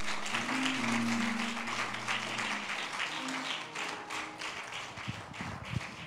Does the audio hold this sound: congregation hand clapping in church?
yes